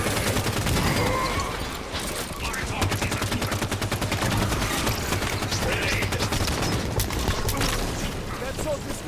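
Rapid, dense gunfire from Halo 5 rattles nonstop as automatic bursts, loud and close throughout, with in-game voice callouts mixed in.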